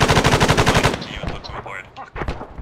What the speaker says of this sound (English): I think Bradley's shooting on my tracer.